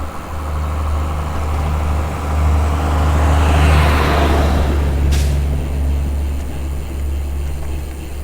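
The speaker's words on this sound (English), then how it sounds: "And so I got a dump truck passing here." A dump truck rumbles past a campsite before dawn, its low roar swelling to a peak midway and then fading, loud and close, with no talking.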